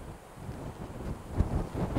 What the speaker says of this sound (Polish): Ale wieje.